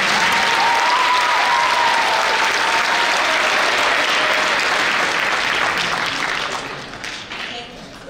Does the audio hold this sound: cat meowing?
no